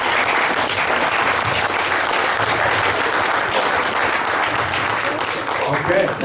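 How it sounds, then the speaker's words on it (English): Steady, dense audience clapping fills a meeting hall for several seconds at an ACT! for America event in Montana, loud and continuous with a faint voice near the end. "Were you just clapping?"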